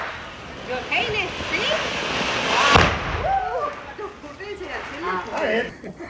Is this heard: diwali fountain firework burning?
yes